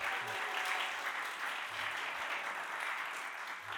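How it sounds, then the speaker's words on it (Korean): A church congregation claps together during a Sunday sermon, steady dense applause sustained throughout at a moderate, somewhat distant level. "우리 박수 한번 할까요?"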